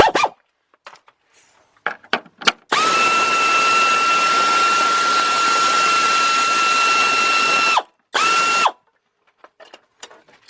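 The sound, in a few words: ratchet removing 10 millimeter bolt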